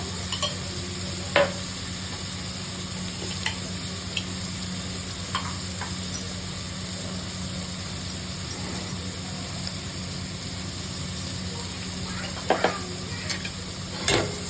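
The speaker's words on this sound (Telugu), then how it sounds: "కొంచెం బాగా ఎర్రగా గోల్డ్ కలర్లో వచ్చేటట్టు వేగాలండి" Onions fry in a pan for okra mutton curry, a steady close sizzle with occasional scraping stirs and faint clinks under a constant background hum.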